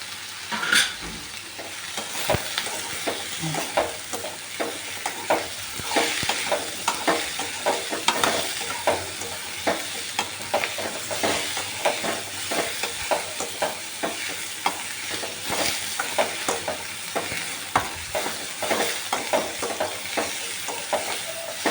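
Ridge gourd tipped onto sautéed onion and tomato and stir-fried for a prawn thokku, with a continuous frying sizzle and rapid, busy spatula scraping throughout, close up.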